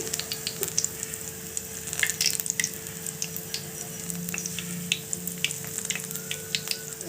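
Bangalore chilli bajji battered and dropped into hot frying oil give a close, continuous crackling sizzle with bubbling pops, heard alone without talk.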